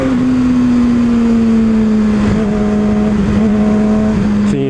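Car engine heard close and loud, a steady droning tone that dips slightly as the vehicle goes by, with no speech.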